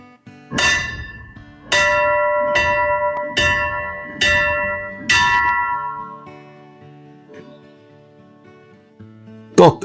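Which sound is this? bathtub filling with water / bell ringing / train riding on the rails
bell ringing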